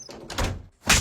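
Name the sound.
door being closed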